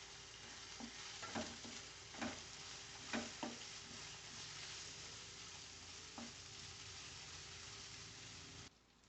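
Masala is sautéed with garam masala and salt for a samba wheat rava kanji, giving a soft, constant sizzle with several spaced scraping stirs, close but quiet, before it cuts off.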